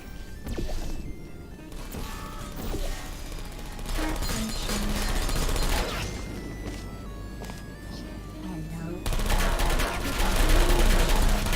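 Gun turrets in the video game Portal 2 fire rapid bursts of bullets amid clattering mechanical game effects, dense and loud throughout with only brief pauses.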